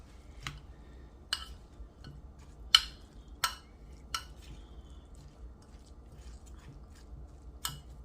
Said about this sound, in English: Now I'm going to be stirring the tuna in with the apples.